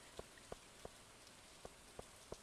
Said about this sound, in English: because it's raining, I think I have to fish at the ocean